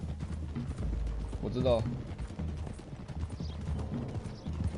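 Horse hooves galloping in Red Dead Redemption 2, a steady clip-clop under game dialogue and a brief whinny, with people talking over the ride.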